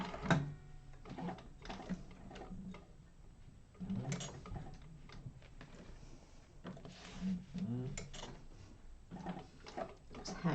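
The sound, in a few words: sewing machine with walking foot stitching vinyl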